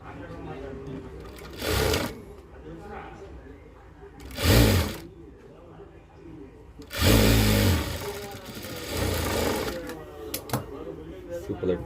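A sewing machine stitches a blouse lining in several short bursts of rapid, rattling whir, with someone speaking between the runs of stitching.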